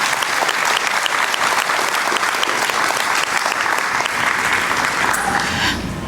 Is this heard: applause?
yes